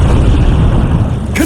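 A booming Confringo blasting-spell explosion in Hogwarts Legacy, one loud, dense burst filling the short stretch with a sharp new hit at the very end.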